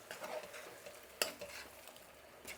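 A spiced curry is stirred in a pan, with soft scraping strokes, a sharp clink of the utensil against the metal and a faint sizzle, quiet and close.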